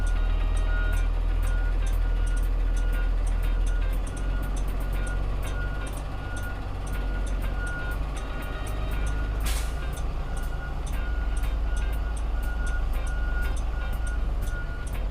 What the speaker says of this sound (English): you'll put your bus in reverse